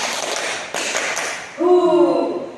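Three quick group claps ring out from students in a school group-guidance session, followed by a voice speaking up right after.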